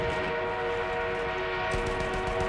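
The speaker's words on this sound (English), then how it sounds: "We have an armored train en route." An armored train in a video game rumbles steadily with a sustained horn-like whistle tone running throughout, loud and continuous with no speech.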